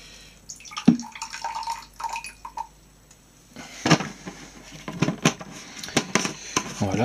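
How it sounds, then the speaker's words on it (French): Water poured into a distillation container while making colloidal silver, with splashing and dripping bursts, a gurgling fill later on, and clinks of glassware, heard close up. "donc on remplit ça d'eau jusqu'à la limite, et ensuite on va pouvoir lancer la distillation"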